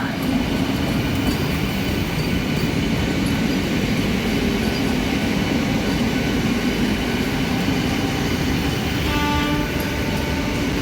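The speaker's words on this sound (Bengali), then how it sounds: "দাসনগরে বন্দে ভারত এক্সপ্রেস পাস করছে, দাসনগর রেলওয়ে স্টেশন।" A Vande Bharat Express passes Dasnagar railway station at night with a loud, close, continuous rumble and rail clatter, with a faint horn near the end and no talk.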